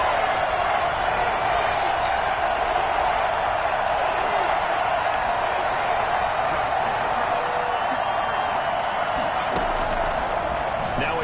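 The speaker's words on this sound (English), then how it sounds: "The crowd getting into it as we come up on a big third down" A football stadium crowd roars before a big third down, a dense, steady wall of cheering and noise that holds at an even level from start to finish.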